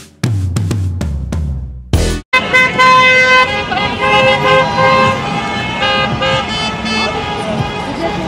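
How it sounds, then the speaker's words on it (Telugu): Car horns honk on a Paris street at midnight on Christmas near the Champs-Élysées. A few short toots come first, then a dense, loud chorus of overlapping horns blares without stopping, with traffic noise underneath. "హ్యాపీ క్రిస్మస్ చెప్పడానికి అలా హార్న్స్ కొడుతున్నారన్నమాట."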